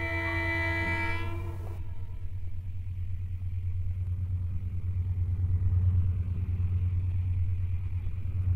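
A train runs on the Abu Qir railway line near Al-Zahireya station. A loud horn blast lasts nearly two seconds, then a steady, heavy rumble of rolling wagons continues close by.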